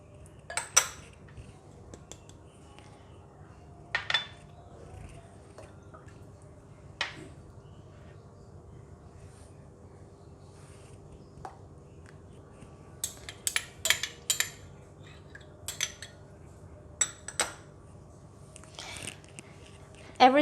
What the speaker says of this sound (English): I will put all the seasoning into this cup and mix all of them together.